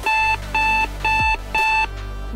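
A workout timer beeps four times in an even rhythm, each tone long, loud and steady, with short gaps between, over a low background hum.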